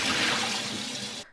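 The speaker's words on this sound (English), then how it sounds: "here is my flour, and I am throwing in the water" Water poured into a bowl of flour to make okonomiyaki batter, a steady close splashing gush that runs continuously before cutting off abruptly near the end.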